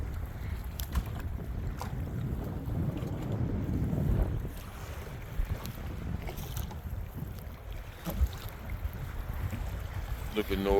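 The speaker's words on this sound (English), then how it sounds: "What you hear is the wind blowing out the south into the camera." Strong wind off the Chesapeake Bay buffets the camera on a Native Titan 10.5 kayak, a constant rough rumble with water lapping and a few small knocks.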